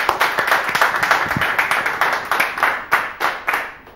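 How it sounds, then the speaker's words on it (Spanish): A small audience in Chajarí, Entre Ríos, claps for young musicians, with distinct individual hand claps forming loose, lively applause at close range. "Un aplauso para estos chicos"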